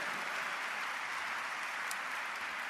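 Applause of thanks from an audience at a religious talk, a steady, even hiss of many hands clapping heard from a distance, continuous and fairly quiet, with no voices over it.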